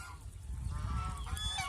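Geese on a riverside goose farm give a few short, nasal honks near the end, fairly close, over low background rumble and without speech.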